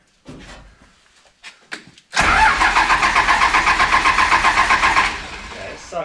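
Off-road rollback truck with an air leak: a few clunks and faint voices, then the engine catches and runs with a loud, rhythmic pulsing idle for about three seconds before settling lower.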